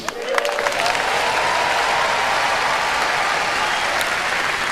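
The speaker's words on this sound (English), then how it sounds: "put your hands together for God Almighty" A crowd at a comedy show in Kenya claps steadily after a call to praise God Almighty, a broad continuous roar of applause with a faint tone drifting underneath throughout.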